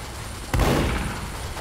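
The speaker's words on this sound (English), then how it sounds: "He's shooting me." An enemy's gunfire in Team Fortress 2: one loud, sudden blast that booms and then slowly decays under a steady background hum.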